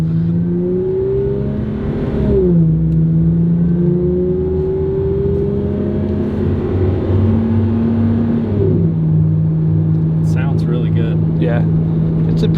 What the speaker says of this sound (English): it's a pretty good sounding V6